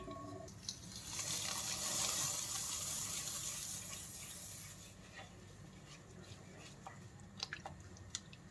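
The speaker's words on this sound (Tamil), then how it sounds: "இப்போ பார்த்தீங்கன்னாங்க தண்ணி நல்லா கொதிக்குது" Water boiling in a cooking pot while a dish of mixed grains is prepared, a steady bubbling hiss that swells loud for several seconds and then eases into quieter simmering with small pops.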